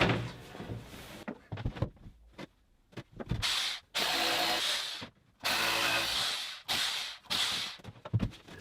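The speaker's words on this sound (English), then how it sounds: "the SDS makes short work of the drilling" An SDS drill grinds into engineering brick in several loud bursts of a few seconds each, separated by brief pauses.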